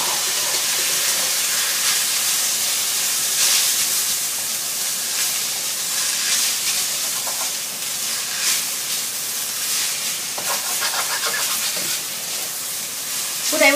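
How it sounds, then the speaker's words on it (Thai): Garlic paste sizzles in a wok, then glass noodles and wood ear mushrooms are stir-fried for shrimp spring rolls, giving a steady loud hiss with someone speaking over it. "ผัดสามเกลือให้หอมๆก่อนจ้าพอหอมเหลืองแล้วใส่วุ้นเส้นนะคะกับเกล็ดหูหนูลงไปนะคะ"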